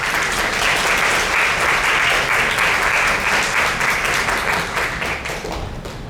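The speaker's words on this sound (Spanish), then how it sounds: "vamos a invitar a pasar al estrado a la doctora Sofía Pachas, a quien recibimos con un fuerte aplauso, por favor." Loud, dense audience applause fills a lecture hall for a Peruvian history and art event, steady rapid clapping from many hands welcoming a speaker, sustained throughout and tapering slightly at the end.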